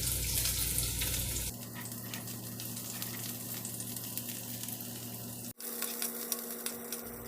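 Chopped onions and cumin seeds fry in hot oil with a moderate, steady sizzle over a low humming background, cut by a brief dropout near the end.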